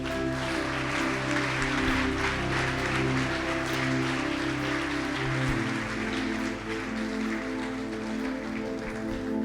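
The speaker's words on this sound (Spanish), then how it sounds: "Yo creo que es un buen momento para aplaudir tú y yo." Applause from a church congregation during a sermon, a dense steady patter of clapping lasting throughout, over sustained musical tones from an instrument playing underneath.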